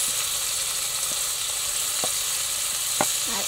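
Onions sizzle in hot oil in a village cooking pot, a steady, fairly faint frying hiss with a few brief clinks and scrapes scattered through it.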